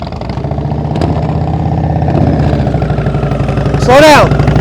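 A motorcycle engine putters and revs steadily during slow-speed riding practice, close and loud throughout, with a brief squeal near the end.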